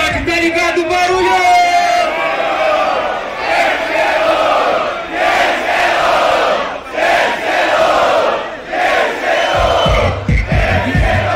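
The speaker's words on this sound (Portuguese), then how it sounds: "Barulho, quem gostou dessa imagem WM, Magrão?" A crowd at a Brazilian street rap battle in Itaquera roars, cheers and shouts continuously and loudly, with waves of yelling rising and falling throughout.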